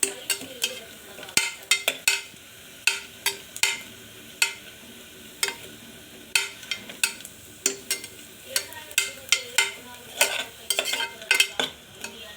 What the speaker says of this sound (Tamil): இப்போது நம்மளுக்கு பூண்டு வெங்காயம் நல்லா வதங்கிடுச்சு.